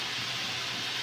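Water poured into a hot pan of browned chicken cooking in oil sends up a steady, loud broadband hiss of sizzling steam, continuous and close.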